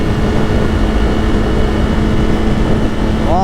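A 2026 BMW M1000RR with a full Akrapovic exhaust and BT Moto tune, a loud, steady, droning engine roar heard at speed with heavy wind rush, continuous and close.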